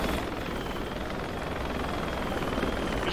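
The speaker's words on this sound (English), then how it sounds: "Get to the helicopter." Helicopter in the Project Reality military shooter game, a steady broadband rotor and engine roar holding constant and loud throughout with no talk over it.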